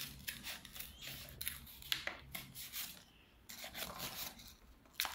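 Scissors snip through folded paper in a flasher fold, a string of close, quiet crisp cuts and rasps with short pauses between strokes, no talking.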